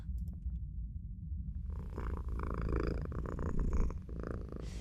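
A cat purrs in a French horror video game, a low continuous rumble that is quiet at first and joined midway by brighter game ambience, with no talking.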